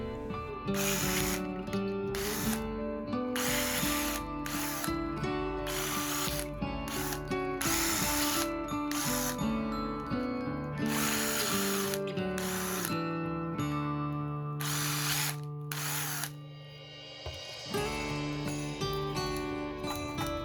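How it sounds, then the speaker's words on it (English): Close-up drilling: a power drill revs in a series of short, loud bursts, enlarging holes in a small wooden craft tree ornament, then slows and winds down near the end. "Drilling the holes slightly bigger."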